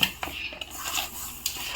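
A metal puttu steamer tube being handled in a kitchen, giving several sharp metallic clinks and light scrapes at irregular intervals, close and fairly quiet.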